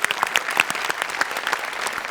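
Studio audience at a Marathi comedy show giving a short burst of loud, close applause, the individual claps sharp and distinct in a brisk, uneven patter.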